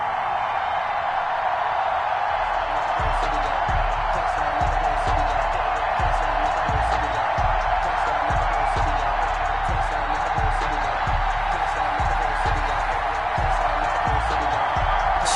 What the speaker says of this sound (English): This crowd is ready as their guys get set to match up between the Tennessee Titans and the Houston Texans